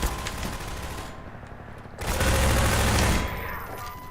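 Rapid automatic gunfire in the Half-Life 2 video game, dense bursts of shots that pause briefly and then return louder and fuller before tapering, with no voices.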